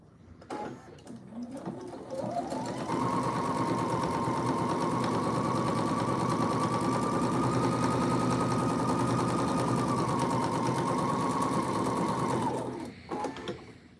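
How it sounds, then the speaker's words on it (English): A sewing machine runs steadily for about ten seconds, starting up with a rising whir and then holding a loud, even mechanical hum before stopping, with faint room noise on either side. "I'm also going to try not to talk over sewing"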